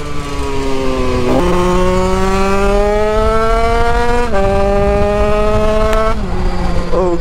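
Yamaha DT 100cc two-stroke motorcycle on slick tires, engine loud and close as it revs and climbs through several gear changes, pitch rising in steps with brief dips between shifts.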